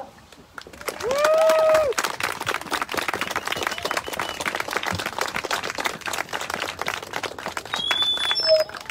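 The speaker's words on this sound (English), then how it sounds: "Let's show these mothers, grandmothers, and aunties our appreciation with some thundering applause." An event audience breaks into sustained applause and clapping, loud and dense for several seconds, with cheering and a whoop near the start and scattered voices throughout.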